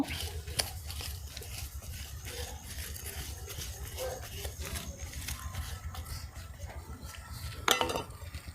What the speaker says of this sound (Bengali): দা দিয়ে একটু গোল করে মাটি কিছুটা কেটে তুলে নিতে হবে